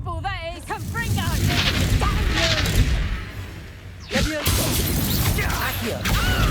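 Confringo fire-blast spell in Hogwarts Legacy, a booming burst that strikes sharply partway through, set amid clanking combat effects and talk.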